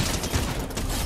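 Fortnite gunfire sprays at an NPC in a fast, loud burst of continuous shots, dense and close for about a second.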